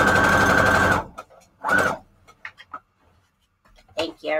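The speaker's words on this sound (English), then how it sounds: "And then we're going to do a straight stitch here." A sewing machine runs a straight stitch through junk journal pages, whirring steadily for about a second, then again in a brief burst, followed by quiet handling sounds and a short spell of talk.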